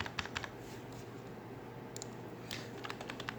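Quiet computer-keyboard typing in AutoCAD: a few scattered key clicks in brief clusters over a steady low hum, with no one talking.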